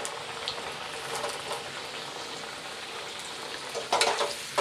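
Potatoes frying in white cooking oil for a chicken and fried rice meal, a steady dense sizzle with crackling spurts and a louder burst of spattering near the end.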